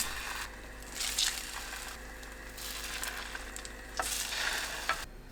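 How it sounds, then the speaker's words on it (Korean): Zucchini coated in egg frying in a preheated oiled pan over low heat, a steady soft sizzle with small crackles, close and fairly quiet, no voices. "팬이 예열되면 약불로 낮추고 애호박에 계란 묻혀 올려주세요"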